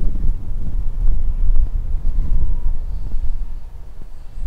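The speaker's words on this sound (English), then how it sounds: "We do get a lot of turbulent wind here." Turbulent wind buffeting a microphone outdoors at a seaplane flying site, a loud continuous low rumble with gusty surges and no speech.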